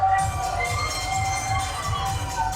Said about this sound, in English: Make some noise, everybody!